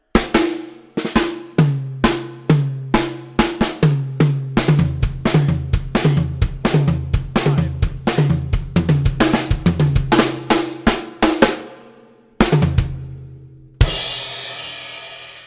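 A slow rock drum kit solo: steady, spaced hits on low drums and cymbals in an even rhythm, ending with a short fill and a ringing crash.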